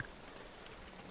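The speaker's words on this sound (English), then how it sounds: "All I could hear was wind and rain." Rain and wind around a cabin in a dark garden at night make a faint, steady hiss of falling drops with a low, even rush underneath.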